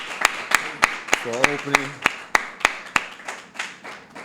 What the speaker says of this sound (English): Let's give our brother David, a round of applause